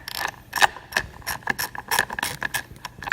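A Ducati factory mirror is screwed onto a Monster 1100 EVO, giving a quick run of small, close ratcheting clicks in an irregular rhythm.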